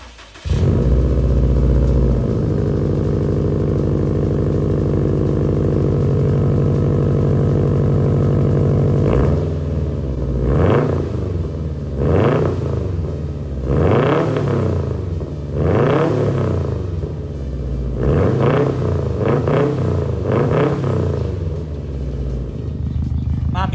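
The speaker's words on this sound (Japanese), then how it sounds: "とにかくエンジンかけてみたいですね。" A Subaru STI fitted with a Tomei titanium exhaust fires up and settles into a deep, steady idle, then is blipped repeatedly in a series of short, close, rumbling revs.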